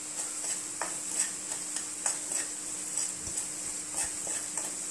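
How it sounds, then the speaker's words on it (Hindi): Cumin powder, garam masala and chana masala roast in a pan for pindi chana, with soft, repeated scraping strokes from stirring over a faint, steady sizzle. "जीरा पाउडर, गरम मसाला, चना मसाला, इनको अच्छी तरह से भून लेंगे।"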